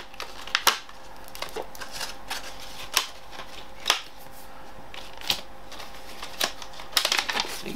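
Plastic and paper packaging of a PS3 wireless controller battery pack being handled and opened, giving a close series of sharp crinkles, clicks and rustles at irregular intervals with no talking.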